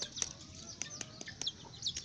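Soft chicken clucks come in short bursts at a moderate distance, with faint rustling and scattered sharp high notes over quiet background noise.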